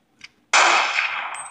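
A sniper gunshot in a Lego SpongeBob animation: one loud, sharp crack that rings out and slowly fades, preceded by a faint click.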